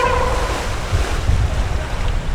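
Sea waves wash in at Bangsaen beach, Thailand, a steady broad surf roar mixed with wind buffeting the microphone, continuous and fairly loud throughout.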